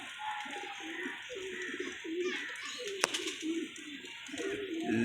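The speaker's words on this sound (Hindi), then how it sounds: "ये कबूतर आया किसी का बारिश के अंदर" A pigeon coos repeatedly in low, rolling phrases close by, with rain hissing steadily underneath and a single sharp tap partway through.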